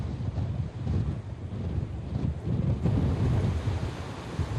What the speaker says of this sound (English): You hear the wind. I'm going to put the mic out so you can hear what I'm hearing.